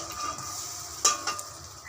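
Fritters (bora) made with poppy seeds, salt, turmeric and chilli powder sizzle in oil in a pan: a steady, close hiss with a couple of sharp spits and pops near the middle.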